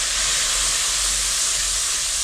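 Water poured into a hot pan of frying onions and spices for a Bengali katla fish curry, giving a loud steady sizzling hiss close by with no talk.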